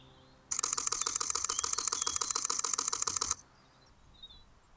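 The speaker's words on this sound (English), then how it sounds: "I'm going to press my shutter button and just hold it down" A Canon EOS R fires a rapid continuous burst of shutter clicks for about three seconds in a fast, even rhythm, close and crisp, then stops abruptly into quiet.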